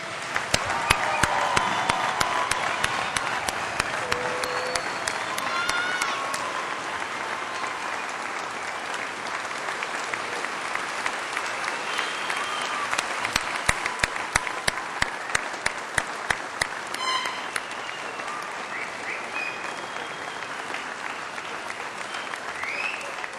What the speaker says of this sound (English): invite the audience to join me in applauding your success